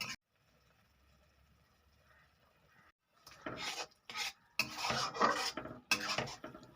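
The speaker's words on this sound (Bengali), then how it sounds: "সবজি মশলা দিয়ে ভালোভাবে নেড়ে নেব" Spatula scraping and rubbing through chopped taro-leaf greens (kochu shak) with vegetable masala in a pan, coming in several loud bursts of stirring after a quiet, nearly silent opening.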